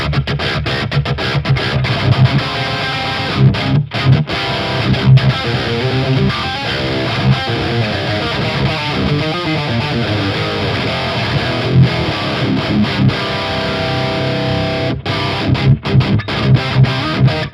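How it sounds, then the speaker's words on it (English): Electric guitar driven through a Sunless Effects The Winter overdrive pedal, playing tight, sharp metal-style riffs with chugging palm-muted chords and brief stops, loud and close, no talking. "So now we are really in those really sharp and precise metal tones."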